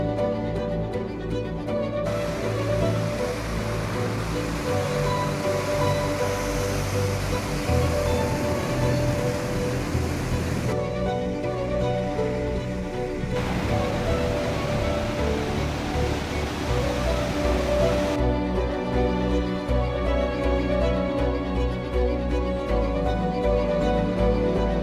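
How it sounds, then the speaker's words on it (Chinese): Atlantic Ocean waves crash below seaside cliffs on Portugal's southern coast, a loud, steady roar of surf with no pauses that shifts in character through the stretch. "听着大西洋海浪的狂野呼啸"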